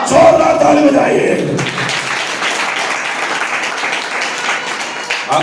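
A large audience bursts into loud, sustained applause at a Hindi Christian sermon, a dense wash of clapping that carries on steadily after an opening moment of voices and music.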